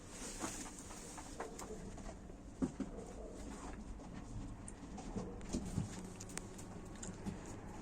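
Young kızbaşı tumbler pigeons coo softly in a steady low murmur, with a few brief louder taps and rustles standing out against continuous background noise.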